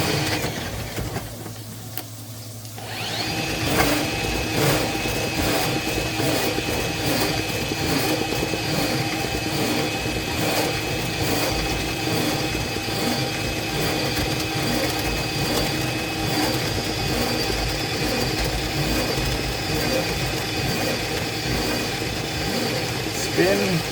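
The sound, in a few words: drain cleaning machine spinning cable in kitchen sink pipe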